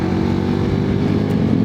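A motorcycle engine blips its throttle and accelerates during clutchless shifting, a steady loud close drone with a rough low rumble throughout and no talk.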